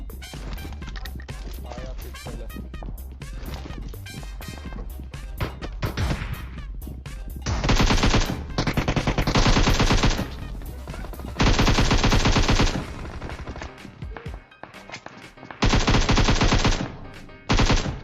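Gunfire from the PUBG Mobile video game crackles loudly while gang enemies are being cleared out, with long sustained machine-gun bursts and shorter volleys over a dense game soundtrack.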